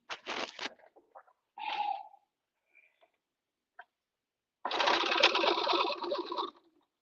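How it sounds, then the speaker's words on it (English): A sewing machine topstitches a seam on a Forager vest. A couple of brief bursts of stitching and some scattered clicks lead into a steady run of close, rapid needle clatter that lasts about two seconds. "I'm going to be just top stitching that down through"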